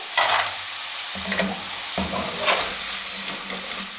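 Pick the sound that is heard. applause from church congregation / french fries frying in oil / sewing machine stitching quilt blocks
french fries frying in oil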